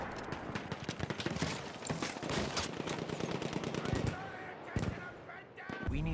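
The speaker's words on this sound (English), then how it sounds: "Machine gun! Hostile!" Rapid machine gun bursts in the War Pigeons video game, dense overlapping gunfire crackling continuously near and loud, with shouted voices mixed under the shooting.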